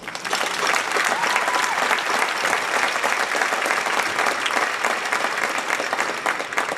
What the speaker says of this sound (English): You all deserve another round of applause.